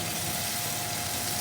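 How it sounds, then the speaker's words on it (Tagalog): Tomatoes and spring onions sauté in olive oil with a steady, even sizzle, close and continuous without any talking. "Now, I'm sauteing with lots of kamatis."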